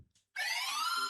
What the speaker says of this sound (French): Testez les buzzers.